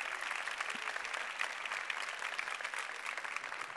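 A conference audience at the ChangeNOW 2022 session applauds a speaker, a steady, soft-sounding wash of clapping heard from a distance with no talk.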